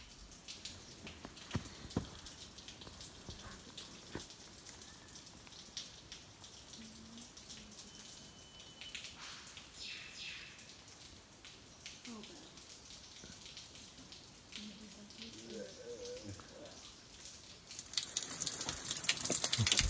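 Water dripping from a rock face in the Bunya Mountains, coming from high above, gives faint, irregular drips and light patters over a quiet outdoor background. A louder rush of wind or water rises near the end.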